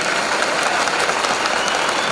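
Dense, steady applause from an audience at a meeting, loud and continuous with no breaks, with no voices rising above the clapping.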